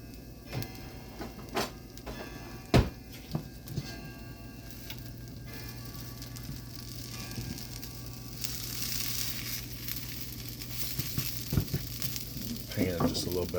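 Kale burgers fry in a covered pan with a steady low sizzle and crackle, broken by a few sharp ticks and clinks of the lid, while a voice talks faintly in the background.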